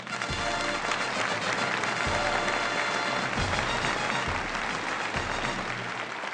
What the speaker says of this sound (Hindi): जोरदार तालियां डॉक्टर शिंदे के लिए